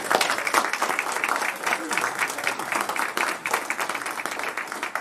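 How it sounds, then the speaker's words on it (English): Audience applause fills a Veterans Day program, a steady wash of many hands clapping at close range, with some voices mixed in. "let's give Mandy a round of applause"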